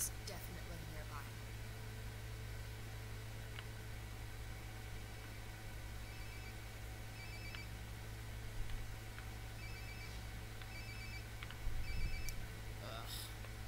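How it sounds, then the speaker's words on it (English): A phone rings faintly nearby in the video game Life is Strange: Before the Storm, short repeated electronic trills spaced through a steady hiss of ambient game noise. "Sounds like my phone is definitely nearby."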